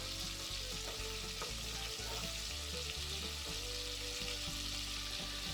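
Steady fat sizzling in a pan while béchamel sauce is started for a zucchini gratin, a continuous close frying hiss with faint clinks and stirring scrapes throughout, no voices.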